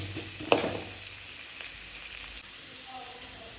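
Garlic sautéing in a pan, a soft, steady sizzle with a sharp clink of a utensil early on, faint and continuous with no talk.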